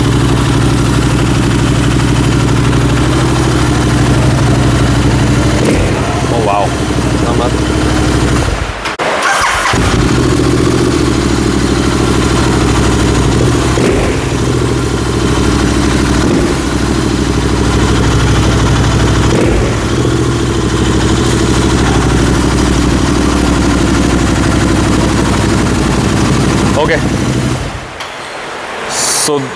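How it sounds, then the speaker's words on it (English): Royal Enfield Interceptor motorcycle with no mufflers, engine running very loud and close, held in a steady roar with brief drops and revs, a voice briefly speaking over it. "So okay, there are no mufflers right now. This is really loud, okay? Sure, but this is a seriously loud bike."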